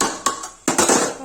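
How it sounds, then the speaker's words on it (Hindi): A lid is set onto a pot of mutton curry in a kitchen, making two short metallic clanks with a clattering ring. "इसको अब ढक देंगे"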